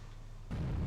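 Torpedo salvo launched from a Royal Navy warship in the naval strategy game Victory at Sea Pacific, heard as a sudden dull thump that swells into a sustained low rumbling rush halfway through, loud with no talk.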